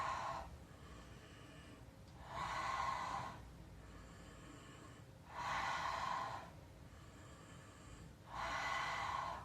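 Slow, deliberate breaths during a Pilates abdominal workout, three long inhalations about two seconds each at a steady rhythm, close and fairly loud, separated by quieter pauses with no talking.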